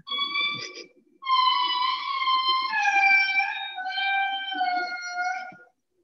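Eerie, wailing indri lemur howls with sliding, sustained tones, one short call then a long unbroken stretch of overlapping wails, loud and close.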